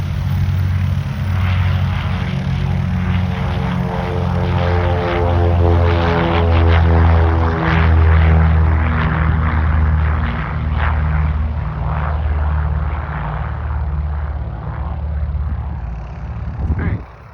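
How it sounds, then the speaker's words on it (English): A propeller plane taking off at Concord Regional Airport, North Carolina, its engines droning loud and steady, a deep throbbing hum that holds for many seconds before fading slightly at the end. "There's this plane about to take off, another plane about to take off."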